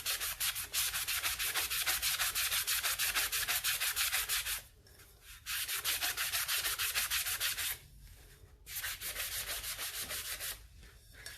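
Sandpaper rubbed by hand around the lip of a tumbler with the finer side, steady rapid scratchy strokes in three long bursts separated by brief pauses, close and loud with no talking.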